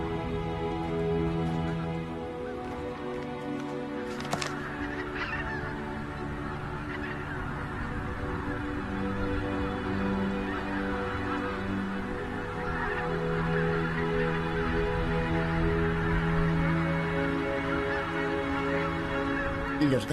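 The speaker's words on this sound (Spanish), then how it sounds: "Los gansos han llegado a su territorio de alimentación." A flock of geese at their feeding grounds near Lake Neusiedl honks repeatedly, with overlapping calls near and farther off, steady and moderately loud throughout, no talking.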